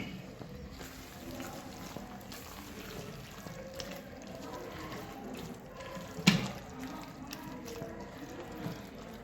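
Cups of water tipped into a cooking pot while a Somali meal is made at home, a steady wet splashing and trickling with a sharp clunk partway through, close by and moderately loud.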